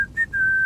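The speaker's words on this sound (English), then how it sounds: "He whistles as he walks." A man whistling a steady high note as he walks, close and fairly loud, briefly broken then held, with no talk.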